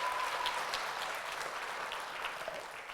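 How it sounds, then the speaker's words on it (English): An audience claps at a boys' blazer graduation ceremony, a steady, fairly faint wash of applause that continues without a break. "give him a round of applause"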